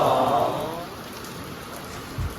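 Steady rain falls in Nepal, a soft continuous hiss of drops on surfaces, louder at first and then easing, with a low thud near the end.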